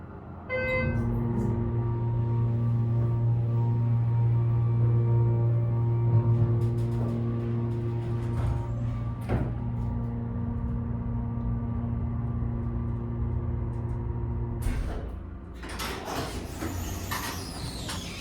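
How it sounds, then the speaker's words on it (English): A Schindler HT 330A hydraulic elevator motor, installed in 2004, runs with a steady, loud hum and whine that holds through most of the stretch before shifting near the end. "let's listen to the motor"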